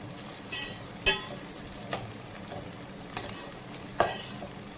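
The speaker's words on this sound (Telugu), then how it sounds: "టమోటాలు టమాటాలు పచ్చిమిర్చి వేసుకుని బాగా కలుపుకోవాలి" Tomatoes and green chillies being stirred into a fish curry, the spoon scraping and clinking against the pan in a few distinct strokes over a soft background sizzle, with no talking.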